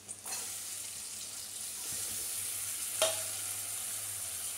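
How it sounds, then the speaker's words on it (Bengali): Carrots and beans frying in a pan give a soft, steady sizzle heard close by at low volume, with a light clink of a utensil near the start and another brief knock around the middle. "গাজর আর বিনসটা ভাজা ভাজা হয়ে গেছে"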